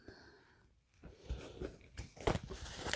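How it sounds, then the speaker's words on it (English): Crunchy purple velvet fabric handled up close, giving faint, irregular crinkling and rustling scrunches that grow a little louder toward the end, with no voices. "It's purple velvet. It is very weird and crunchy."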